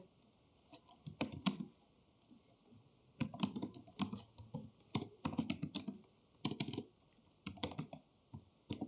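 Typing on a computer keyboard while writing a Python program, bursts of quick close key clicks separated by short pauses, quiet room, no talk.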